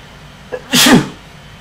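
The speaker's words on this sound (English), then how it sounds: "I sneezed." A single sharp human sneeze, close and loud, with a short intake of breath just before it, then quiet.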